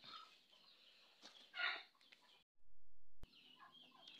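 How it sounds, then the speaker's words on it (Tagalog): Chickens cluck in a short burst of close, busy calls, then a brief silence and a sharp click before softer clucking resumes. "Manok."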